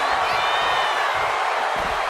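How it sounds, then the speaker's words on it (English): A raucous arena crowd roars and cheers in the WWE 2K26 wrestling game as CM Punk heads into the stands, a dense, loud, steady wall of crowd noise with occasional thuds beneath. "Now entering the raucous crowd."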